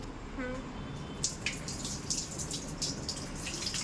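Tap water runs steadily into a sink as hands are washed at home, a continuous close hiss with irregular splashing spatters, after a brief faint voice at the start.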